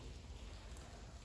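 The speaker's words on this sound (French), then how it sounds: "il y a la pluie qui tombe, ça vous met vraiment dans l'ambiance" Steady rain falling in and around a huge abandoned locomotive depot, a dense, even hiss at moderate level with no voices.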